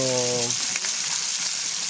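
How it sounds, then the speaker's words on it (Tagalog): Fish sizzles in hot oil in a home kitchen with a steady crackling hiss, after a brief low tonal hum at the start. "prito muna tayo"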